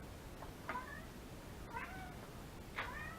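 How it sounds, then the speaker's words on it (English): A male pet cat meows several times, soft and fairly distant, in three short calls spread across a quiet room with faint background hiss. "he sits there and meows until you tell him he's a good boy"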